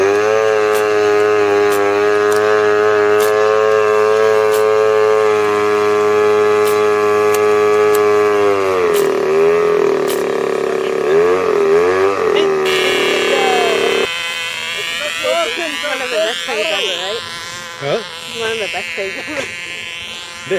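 A small nitro-fuel model engine, the kind fitted to a Bixler model airplane, whines with a steady high buzz whose pitch wavers and then shifts as the throttle changes. It is loud and close throughout.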